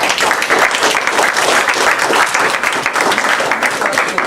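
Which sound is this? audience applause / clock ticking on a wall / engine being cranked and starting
audience applause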